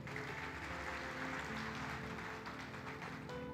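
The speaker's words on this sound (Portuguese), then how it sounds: "Aplaude a Deus de novo, aplaude." A church congregation applauds God during a sermon, a soft, steady wash of clapping sitting over sustained musical tones with no pauses.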